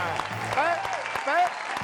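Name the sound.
audience applause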